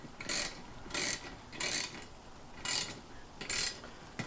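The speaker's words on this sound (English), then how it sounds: "I don't know why I'm using a wrench for this" A ratchet wrench turned during a headlight install on an Acura RSX Type S, giving five short bursts of rapid clicking at a steady pace, close and fairly quiet.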